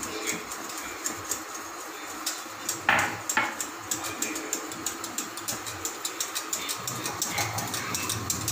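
Custard powder being stirred into boiling milk in a pot, a spoon scraping and clinking against the metal in a steady repeated rhythm over a bubbling simmer, with a brief louder scrape partway through.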